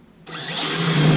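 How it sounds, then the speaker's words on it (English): A power drill bores holes into a soup can for a homemade stove, starting with a sudden loud whine of motor and metal cutting that holds steady and strong to the end, with nobody talking. "I'm going to drill some holes, starting with this big guy."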